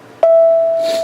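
A single steady high-pitched pure sine tone from a Fourier wave demonstration begins abruptly and holds evenly for about a second, clean and close with no voices.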